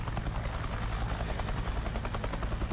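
Chinook twin-rotor helicopter flying in a military video game, a steady loud rotor drone with rapid blade chop throughout, no voices.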